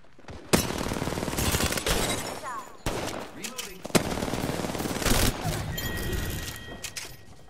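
Gunfire in Apex Legends, loud rapid automatic bursts in close succession with sharp single cracks between them, mixed with game effects and faint voice.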